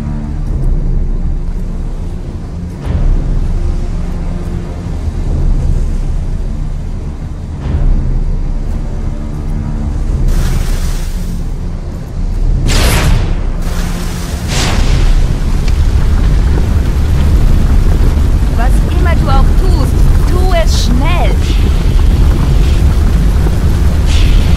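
A firefighter video game plays explosions with loud bangs and rumbling booms over a constant roar of fire and engine noise. Several sharp blasts come in the middle, followed by sustained heavy rumbling.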